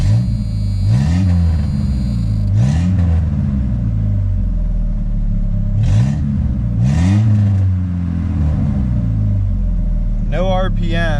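A 1985 Jeep Cherokee Chief engine runs after startup, a steady low rumble with a few short rises in revs, heard close alongside intermittent talking.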